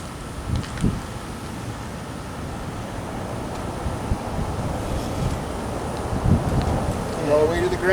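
Breezy outdoor wind buffets the microphone in a steady low rumble that swells slightly toward the end, heard throughout the eight seconds with no clear talk.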